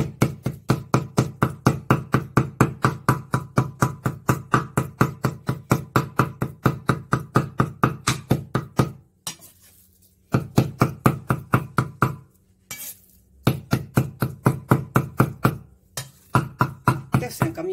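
A kitchen cleaver chops pork filling for chive and pork dumplings on a board in steady, rapid, close strokes, with two brief pauses before the rhythmic chopping resumes.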